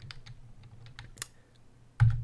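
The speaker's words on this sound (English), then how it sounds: "I'm just typing code to the shell" Someone types code into a Python shell on a computer keyboard. A quick, irregular run of light key clicks ends in one heavier keystroke, close and alone.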